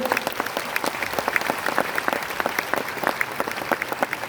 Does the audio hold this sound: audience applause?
yes